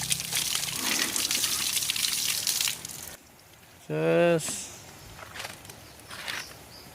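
Cold water is poured over hair during a rinse, a steady splashing gush for about three seconds that then stops abruptly, followed by a short voice and quieter sounds nearby.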